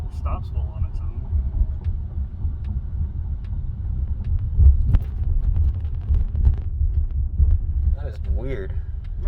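A Polestar 2 electric car on the move, with low road rumble and wind noise running steadily underneath a person talking inside the cabin.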